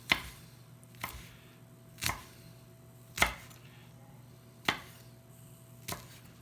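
Knife chopping down through rolled-up fresh basil leaves on a board, six sharp, evenly spaced cuts about a second apart, close and distinct with quiet pauses between.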